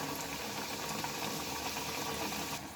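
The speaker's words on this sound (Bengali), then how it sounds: "আর এগুলোকে আমি ভেজে নেবো" Filled flour-dough snacks fry in hot oil with a steady dense sizzle and crackle, close and continuous throughout, with no talk.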